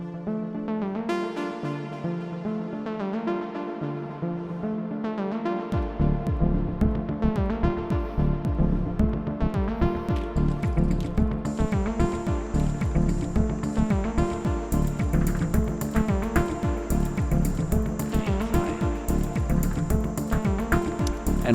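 Synthesizer-driven melodic house jam with layered sustained pads and melodic lines; a steady four-on-the-floor kick and bass pulse enter a few seconds in and drive on while bright high-end layers join partway through.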